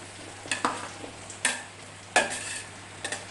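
Food fries in a lidded pan on the stove, with a faint, steady sizzle beneath a few sharp utensil scrapes and clatters spaced a second or so apart.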